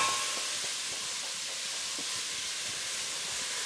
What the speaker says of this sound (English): So right now we're just gonna saute this up, fry those little bits in there.